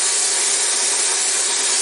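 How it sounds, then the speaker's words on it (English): A wooden peg spinning on a lathe is sanded, giving a steady, loud, hissing abrasive rush with no talking. "We'll do a little more sanding on it."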